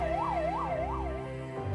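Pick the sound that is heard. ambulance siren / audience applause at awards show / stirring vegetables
ambulance siren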